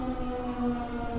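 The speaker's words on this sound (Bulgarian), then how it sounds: "като се пуснаха сирените, аз не знам какво е това" Sirens sound in Kyustendil, Bulgaria, a sustained, steady wail heard from a distance that holds at a constant level across the short moment, with no talk over it.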